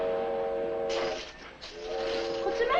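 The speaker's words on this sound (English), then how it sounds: "It's the evening freight train, that's all." An evening freight train passes with a sustained, chord-like horn blast that breaks off and resumes, over hissing rumble from the cars.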